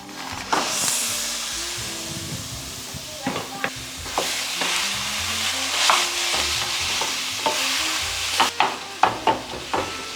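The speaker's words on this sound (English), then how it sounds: "We are going to completely brown up this ground beef." Ground beef browns in a pot with a continuous sizzle, broken by repeated scraping and stirring knocks from a utensil, close and fairly loud with no talking.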